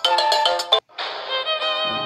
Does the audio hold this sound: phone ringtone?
yes